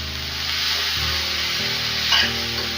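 Steady sizzling of amaranth leaves stirred with chili powder in a hot frying pan, a continuous close hiss with soft scraping strokes of the spoon and one brief louder scrape near the end.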